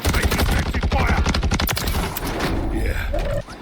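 Rapid automatic gunfire rattles through a match of Warzone, loud and close, with sharp repeated shots packed tightly together before tapering off into quieter game sounds at the end.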